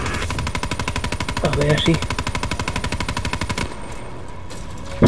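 Rapid automatic gunfire from Call of Duty Black Ops 3, a steady rattling burst of evenly spaced shots lasting several seconds before cutting off, with someone speaking briefly over it.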